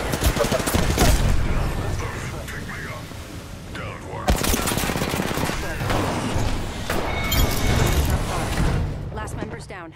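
Dense, continuous gunfire in Apex Legends with rapid automatic bursts and a few heavier impacts, loud and sustained over busy game sounds.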